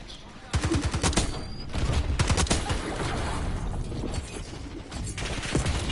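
Rapid bursts of gunfire and weapon mechanisms ring out in a first-person shooter video game, with dense close volleys running almost throughout and players talking over the action.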